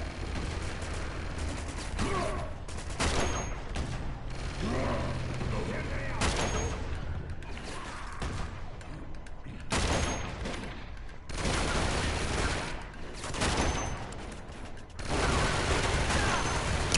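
Luger pistol gunfire in the Uncharted video game, with steady rapid bursts of shots and loud fusillades coming in waves over a constant game backdrop.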